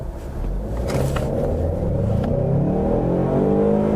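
A Ford Mustang EcoBoost four-cylinder engine revs up hard and keeps accelerating, its pitch climbing steadily through the gears, loud and close with no talking.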